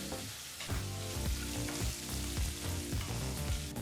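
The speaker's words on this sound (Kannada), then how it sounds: "ಬಹಳ ಚಿಕ್ಕದಾಗಿ ಕಟ್ ಮಾಡಿದಂಥ ಒಂದು ಈರುಳ್ಳಿನ ಹಾಕಿ ಸರಿಸುಮಾರು ಮೂರು ನಿಮಿಷಗಳ ಕಾಲ ಮೀಡಿಯಂ ಫ್ಲೇಮ್ನಲ್ಲಿ ಚೆನ್ನಾಗಿ ಫ್ರೈ ಮಾಡ್ಕೋಬೇಕಾಗತ್ತೆ" Finely chopped onion fries on a medium flame for spinach palya, giving a busy crackling sizzle broken by rhythmic scraping and stirring strokes, close up and moderately loud, with no voices.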